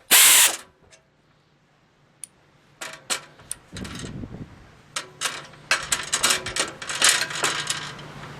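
Metal tool clicks, ratchet-like taps and short scraping bursts come in an irregular series up close as a fastener is tightened on a sheet-metal Typhoon Tilter wind turbine assembly; the sounds start sparse and grow denser.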